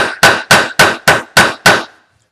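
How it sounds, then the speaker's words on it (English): Seven sharp, evenly spaced hammer strikes from the flat face of a hammer, pounding a rivet flat on a roll-top rucksack during bag making; close and loud with a ringing tone, then silence. "Flip my hammer over to the flat side."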